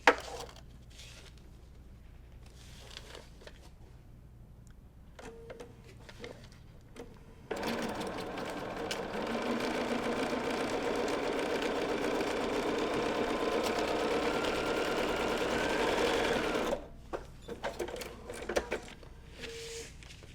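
A sewing machine stitches quilt fabric, starting with a few short bursts, then running steadily for about nine seconds before stopping and finishing with brief intermittent stitches.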